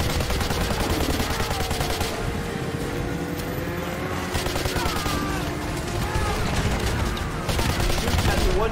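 Sustained heavy automatic gunfire rages in Modern Warfare 2 Remastered, with dense continuous bursts layered over a droning engine and shouted radio chatter throughout.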